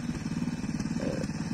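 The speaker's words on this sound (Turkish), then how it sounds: "Traktörümüz de çalışır bir vaziyette bekletiyoruz" A tractor idles in a farm field with a low, rhythmic chugging that pulses quickly and evenly, close and moderately loud, with no talking.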